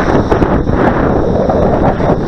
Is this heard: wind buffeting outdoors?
yes